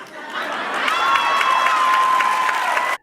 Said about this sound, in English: And judging by the applause